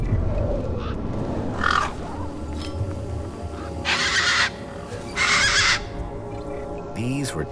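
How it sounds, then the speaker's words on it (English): Tough desert birds in the video game Beyond a Steel Sky give harsh, raspy caws in separate bursts over a steady ambient background, fairly close and loud. "These were tough desert birds."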